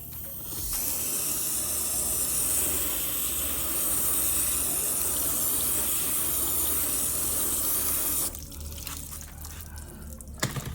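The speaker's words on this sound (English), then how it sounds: "water and we're gonna rinse this off." Water sprays from a hose in a steady, loud hiss as a clayed car panel is rinsed, running for about eight seconds before cutting off, leaving dripping and faint rustling.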